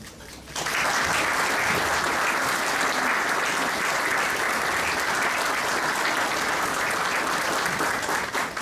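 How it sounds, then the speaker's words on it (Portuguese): After a brief quiet start, a dense, even wall of audience applause breaks out at a book launch for a volunteer fire brigade's 150th anniversary in Ribeira Grande, holding loud and steady to the end. "Peço um enorme aplauso"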